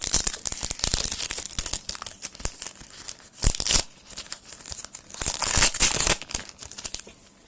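Trading card foil packs being torn open and crumpled by hand, a close, continuous run of crinkling and ripping with a few sharper tears, no talking.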